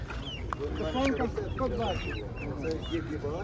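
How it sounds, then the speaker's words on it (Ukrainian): Young hens clucking nearby at a livestock market in a busy, overlapping flurry of short calls, with a low rumble and faint voices underneath. "Є ще курочки."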